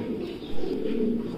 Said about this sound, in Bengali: মাহবুব ভাই এখানে এটা আমরা কি কবুতর দেখছি?